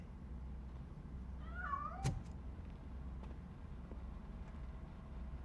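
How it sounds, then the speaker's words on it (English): A cat in the Robocop: Rogue City video game lets out a single short, wavering meow, fairly faint over a low rumbling background hum, followed by a sharp click. "That cat must be hiding inside."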